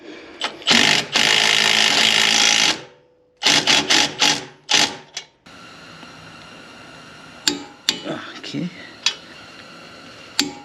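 Wrench tightening a coilover bolt during a coilover install on a 2018-2024 Chevrolet Equinox, with the bolt held by a second wrench: loud sustained ratcheting bursts near the start, then separate metallic clicks and clanks, close up.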